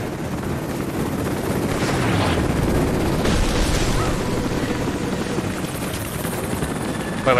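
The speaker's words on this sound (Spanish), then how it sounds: "Pues vaya helicóptero, ¿no?" Helicopter in the video game Rise of the Tomb Raider, a steady loud rotor roar that fills the whole stretch, with faint bursts of gunfire or blasts mixed in.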